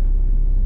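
A Honda S2000 sports car engine idles with a steady, low, close rumble in a short, even stretch with no speech.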